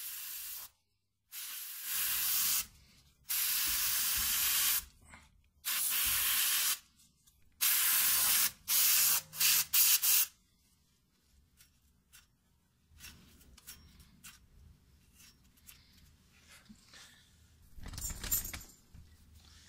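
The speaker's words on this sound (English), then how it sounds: "And then you want to go ahead and spray down this area right here." Cleaner sprays onto the rear brake area of a Ford Mustang in a series of loud, close bursts with short pauses between them, then quieter handling and clinking noises follow.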